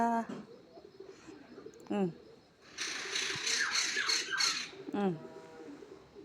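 A kolkole bird in a flowering tree gives loud, rapid squawking calls in a dense burst as it arrives to feed, with a few sharper calls before and after; a person talks nearby.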